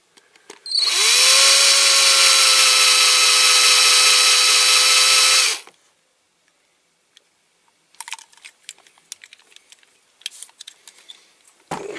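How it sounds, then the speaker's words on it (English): A power drill bores out a rivet on a Siku Magirus Deutz toy concrete mixer: one loud, steady high whine that runs about five seconds and then cuts off, followed by quiet scattered clicks and handling taps. "Drill it gently."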